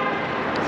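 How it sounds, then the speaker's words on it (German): A car horn sounds briefly on an Italian road, a short steady honk over traffic noise during a road-bike tour across the Alps. "Jetzt hat er wer gehupt."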